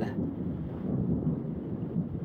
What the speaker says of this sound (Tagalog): Ulan nga dala og hangin, gakilat-kilat na ning panahon